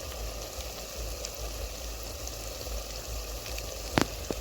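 Ginger garlic paste sizzling in a pan while cooking dhaba-style chicken bhuna masala, a steady, dense crackling hiss that holds evenly throughout, with a couple of sharper pops near the end and no talk.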